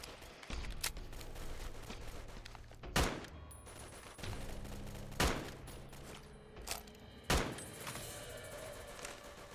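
Gunfire in the game Fallout: Tale of Two Wastelands: a handful of sharp, spaced shots at a moderate level over a busy ambient game background, with several seconds between most reports.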